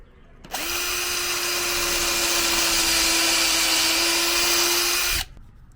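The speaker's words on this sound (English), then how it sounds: "Screws go right in there and create a nice little joint." Power drill driving a screw into a Kreg pocket joint on van build bed furniture, one continuous high whine of about five seconds, loud and close, starting and stopping abruptly, with no talk.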